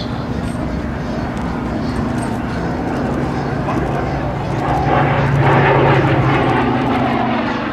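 A Grumman propeller warbird's engine drones loudly overhead at an airshow, swelling slightly toward the end, with a dog faintly barking and whimpering in the mix.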